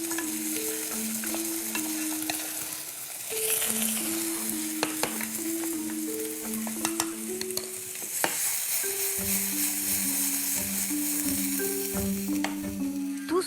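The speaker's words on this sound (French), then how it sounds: "les feuilles de blette rejoignent l'échalote dans la casserole" Chard leaves and shallot fry in a saucepan in a French cooking challenge, a close, steady sizzle broken by stirring scrapes and clicks, with music playing underneath.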